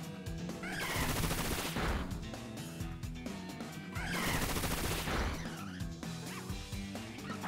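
Bullet Seed attack in the Pokémon Scarlet video game, heard as rapid bursts of popping hits like a stream of shots. Two loud, dense volleys are layered over game music.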